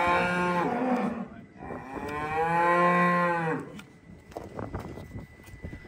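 Cows separated from their calves mooing loudly nearby, a couple of long drawn-out lows in succession, with wind noise and some rustling in the background.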